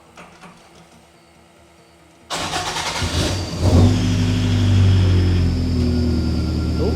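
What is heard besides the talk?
Toyota AE86 car engine starting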